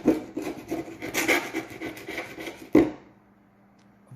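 A blade scraping adhesive residue off a windsurf board, repeated close rasping strokes in a quick rhythm, then a sharper final scrape before falling quiet.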